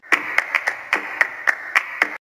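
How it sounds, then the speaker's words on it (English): Flamenco hand clapping: nine or so sharp, close palm claps in an uneven rhythmic pattern, crisp and loud with no other sound between them. "clapping"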